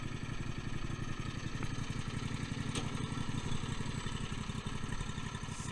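A Green Machine's small engine idles steadily after being brought back to running, with a rapid even putter and light mechanical clatter, close and continuous with no talk.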